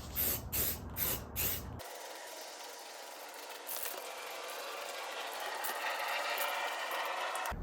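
Aerosol spray paint hissing onto a Saab 900 flywheel cover, a few short rhythmic bursts at first, then one long continuous spray close to the microphone.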